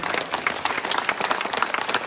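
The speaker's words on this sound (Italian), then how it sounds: "facciamogli veramente un grande applauso" An audience at an evening concert in Borgo Val di Taro claps in a lively, close, continuous round of applause with distinct hand strikes throughout.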